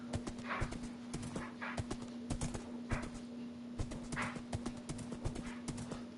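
Horse moving around in Minecraft, a run of quick hollow clip-clop hoofbeats in an uneven rhythm, soft and close, over a faint steady hum with no talking.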